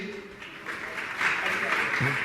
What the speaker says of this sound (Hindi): एक बार जोरदार ताली बजाते हुए